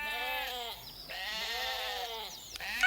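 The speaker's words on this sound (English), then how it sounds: "Look at those sheep." Sheep bleat in a cartoon scene, several wavering, nasal calls following one another over about three seconds, close and clear.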